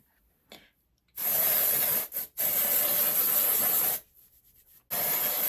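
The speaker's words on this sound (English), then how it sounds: "And then I'm going to vigorously rub it in." Vigorous rubbing of volumizing product into hair roots, heard as loud, close scrubbing friction in two long bursts with a short pause between them, starting after a brief quiet lead-in.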